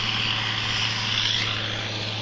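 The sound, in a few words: tractor engine running while plowing the fields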